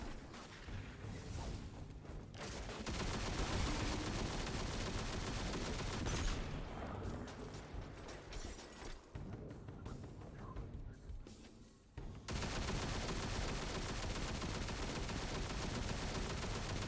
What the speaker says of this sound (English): let's try out the big gun